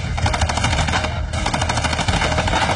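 Rapid bursts of paintball gun shots fired blindly during a paintball match, loud and dense, popping in quick repeated volleys with no voices.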